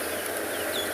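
Morning birdsong in the South African bush, a dense chorus of calls and clucks with thin whistled notes rising above a steady wash of ambient sound.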